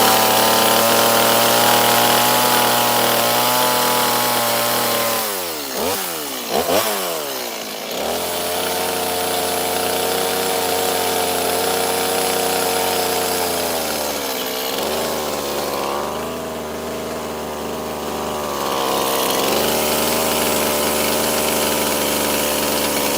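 A chainsaw carves a wooden deer, cardinal and mourning dove, running loud and steady with the engine revving and bogging as the blade bites, then settling back to a near, continuous drone.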